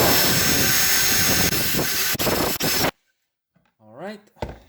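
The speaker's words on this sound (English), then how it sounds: "I will use this bore cleaning extension on my drill to clean inside there" A drill fitted with a bore cleaning extension whirs loudly and steadily while cleaning inside a driveshaft part of a BMW 735iL E32, then cuts off abruptly, leaving near silence before brief faint noises and a voice.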